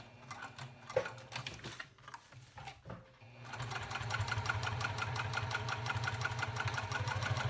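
A sewing machine stitches layers of cork for a wallet: a few hesitant starts and stops, then a fast, steady mechanical chatter running continuously, close and clear.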